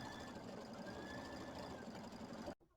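An embroidery machine stitching a lettered design for a nativity bench pillow, a steady, close mechanical whirring hum that runs evenly and then cuts off abruptly near the end.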